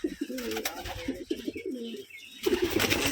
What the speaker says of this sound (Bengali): এই যে একটা কবুতর